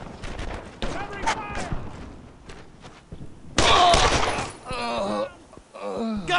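Gunfire in a World War II squad battle in Brothers in Arms: Earned in Blood, with bursts and sharp cracks of rifle and machine-gun fire, near and loud, mixed with shouted voices.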